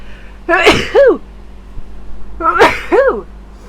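Two loud, close sneezes a couple of seconds apart, each a sharp burst followed by a voiced exhale.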